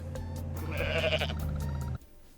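A goat bleats loudly in the video game Goat Simulator: one drawn-out, wavering call over about two seconds that cuts off abruptly, with a low steady hum beneath it.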